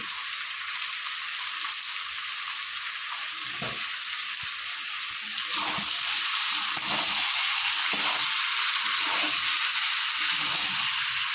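Onion and potato fry together in a pan on a lowered gas flame, giving a steady, even sizzle throughout that swells slightly halfway, with faint stirring knocks and no voices.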